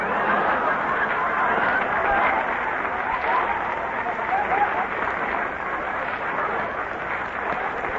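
A live radio show studio audience applauds steadily and loudly throughout, dense clapping with some laughter and chatter mixed in.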